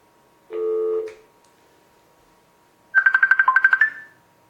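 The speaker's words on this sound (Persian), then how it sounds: "به شما زنگ زدم" A telephone ringback tone sounds while a call is placed during a live show. One steady tone burst is followed, after a pause, by a rapid warbling trill. Both are clear and close, with no voices.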